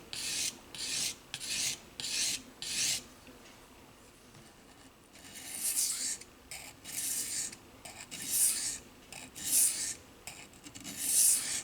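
Knife blade ground against a simple sharpening stone, a series of rhythmic raspy strokes, short bursts followed by a pause then longer back-and-forth passes, close and moderately loud with no talking.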